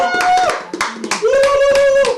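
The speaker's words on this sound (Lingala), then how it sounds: "Applaudissons. Acclamons." Congregation clapping and cheering during a church service, bursts of hand claps mixed with shouted and sung voices, lively and close.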